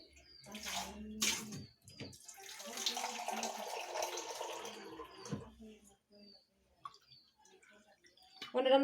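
Water pours from a vessel into a mixer grinder jar while pani puri is being prepared, a steady splashing stream with a few clinks and handling knocks, ending in a louder burst.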